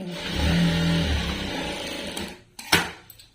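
Sewing machine stitching blouse fabric in a tailoring class, a steady close whirring run that slows and stops, followed by a few short mechanical clicks and knocks.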